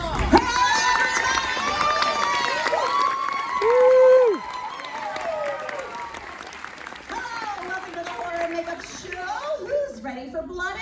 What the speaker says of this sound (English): And now, how about a nice round of applause for the host of today's show, Alex Ross.